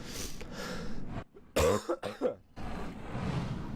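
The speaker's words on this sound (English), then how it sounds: "Oh, sorry about the cough there." Steady background noise from the game Creativerse with a cluster of close, harsh coughs from the player in the middle, then the ambient hum resumes.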